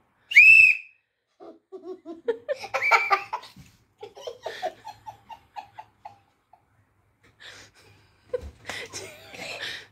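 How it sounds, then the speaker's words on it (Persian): A single short, shrill whistle blast rings out, then giggling and bursts of laughter follow, with a few faint puffs and squeaks in between. "یه بار دیگه سوت بزن."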